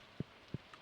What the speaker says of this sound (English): I'm curious what Leia has to say about the green rain